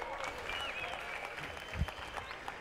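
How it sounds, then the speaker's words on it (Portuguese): An audience at a music and innovation event breaks into a round of applause, a busy spread of clapping at moderate level with scattered louder claps and faint voices mixed in. "Uma salva de palmas."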